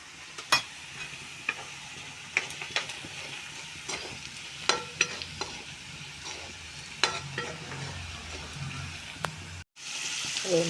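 Pav bhaji masala and spices sizzling in oil over fried onions, with a spoon scraping and clacking against the pan at irregular intervals over a steady close frying hiss.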